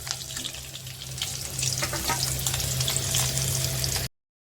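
Three green chillies fry in hot oil for a bhetki fish curry, a steady crackling sizzle that grows a little busier as they are stirred, then cuts off abruptly.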